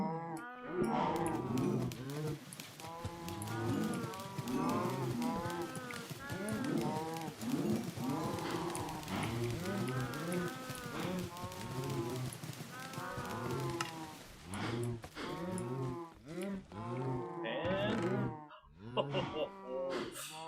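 Minecraft cows are hit over and over, giving a dense, steady run of pitched moos and hurt grunts that fill the whole stretch, with a few sparser calls near the end.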